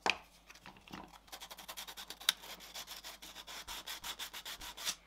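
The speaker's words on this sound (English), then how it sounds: "I'm using some 320 grit. And we're going to use that to rough up the inside of the jaw just there." 320 grit sandpaper rubs the inside of a leather stitching clam's jaw, a close series of quick, rhythmic scratchy strokes that speed up into a steady back-and-forth rasp.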